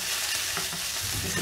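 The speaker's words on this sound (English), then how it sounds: "I'm going to let that sizzle there for a few minutes at least." A vegan burger patty fries in a pan, a steady close crackling sizzle filling the whole stretch at an even level with no voices over it.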